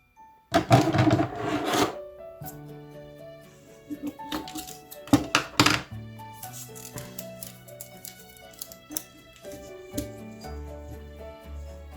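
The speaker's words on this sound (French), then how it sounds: "on fixe ça avec du scotch." Sticky tape is pulled and pressed down in two short crackling bursts, close by, over soft background music.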